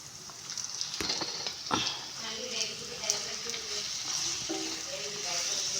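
Masala-marinated prawns for prawn biryani sizzle and spit in a hot pan, with stirring clatters and a voice talking quietly over the frying.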